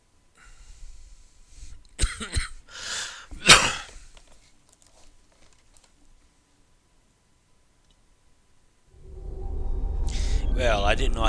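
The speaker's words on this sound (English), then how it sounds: "I'm sorry about any coughing or anything else I may have did." A few harsh coughs and throat noises into an open microphone during Star Trek Online play, then quiet, then a burst of rumbling noise and talk.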